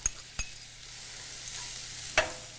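Mushrooms and onions sizzle in a skillet of pan juices for a one-skillet chicken dinner with Madeira sauce, a steady close hiss broken by a few sharp clacks of stirring.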